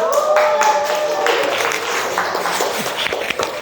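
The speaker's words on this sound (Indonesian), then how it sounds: "Tepuk tangan dulu buat Areka" A classroom claps for a student, a scattered, uneven patter of hands with some shuffling and movement mixed in, close by and fairly loud.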